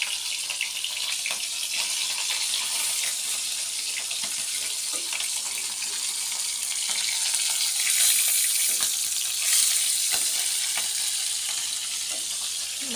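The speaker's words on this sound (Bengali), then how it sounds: "মাছ ভাজতে আসলে অনেক প্যারা।" Fish frying in hot oil in a home kitchen gives a steady, dense sizzle that holds level throughout, with occasional crackles and a brief watery splash near the end.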